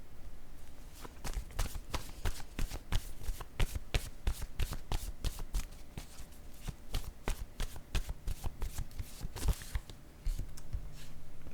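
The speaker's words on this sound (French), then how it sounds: "je vais piger des cartes mots pour chacune d'elles" Word cards shuffled and drawn by hand, a close series of crisp riffling flicks and snaps in irregular bursts, fairly quiet with a brief pause near the end.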